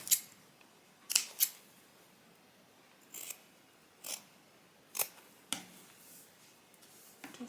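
Scissors cut through fabric for a tote bag, sounding as crisp, close snips that come in short separated bursts with quiet pauses between them.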